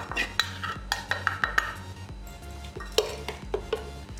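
Besan and rice flour stirred in a bowl, a quick run of close spoon clinks and taps against the dish, irregular and crisp with soft scraping between.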